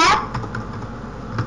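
Computer keyboard typing while entering Python code for a translator program: a few soft, scattered key taps, fairly close, over light background noise with faint voice hints.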